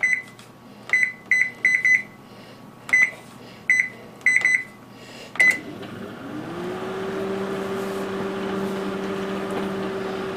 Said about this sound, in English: So set the microwave on high for 7 minutes.